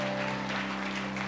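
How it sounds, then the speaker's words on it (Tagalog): Church congregation clapping together in a steady, dense wash of applause during a worship service, filling the room with continuous sound under a sustained organ-like tone. "Minsan mapalakpakan po natin ang Panginoon"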